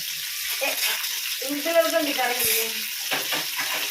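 Biryani being stirred with a large ladle in a big pot over frying heat, a close, continuous sizzle and scraping churn, with a person talking over it partway through.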